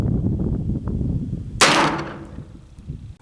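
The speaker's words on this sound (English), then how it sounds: "now let's shoot that 200 grain bullet and see what it does" A single sharp shot from an 1860 Army Richards Type 2 conversion revolver firing a 200 grain bullet, loud and close, cracking out suddenly after a low background rumble and trailing off in a short decaying echo.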